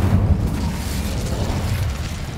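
Incendio fire spell in the video game Hogwarts Legacy bursts out as a loud, low rumbling whoosh of flame that sustains for a couple of seconds, close and without talk.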